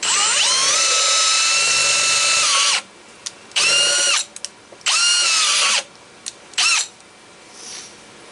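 A power drill with a worn chuck whines loudly into metal tubing while notching it, in one long run, then several shorter bursts separated by pauses.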